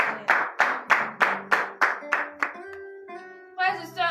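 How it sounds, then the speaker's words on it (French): A church congregation at morning prayer claps in unison, nine sharp rhythmic beats in a steady cadence, then voices rise in sung or spoken acclamation to close. "Donnez de vive acclamation à la parole de l'Éternel"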